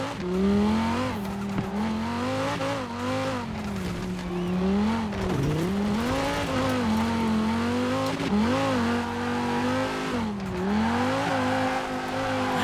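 A car drifts in Forza Horizon 4 with a steady, loud engine drone and continuous tire squeal, the pitch swooping up and down as the slide is held, with no pauses.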